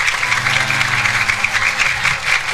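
Audience clapping at a barongan performance in Kalitekuk, a dense steady patter of many hands filling the space, with faint crowd murmur and a low hum underneath.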